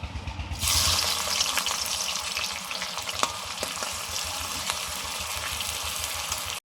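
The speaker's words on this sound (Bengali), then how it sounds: "এবার পেঁয়াজ ভেজে নিচ্ছি, মানে বেরেস্তা ভেজে নিচ্ছি" Sliced onions fry in hot oil for biryani birista, a dense, steady sizzle starting abruptly after a brief quiet moment and holding loud throughout, with scattered clinks and stirring scrapes.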